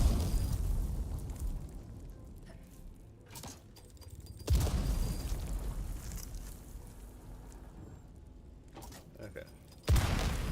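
Explosions in Dune: Awakening, two heavy booms spaced several seconds apart, each trailing into a rumbling roar of debris, with a voice talking in between.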